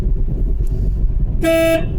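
A single short car horn honk sounds over a steady low rumble of road and engine noise.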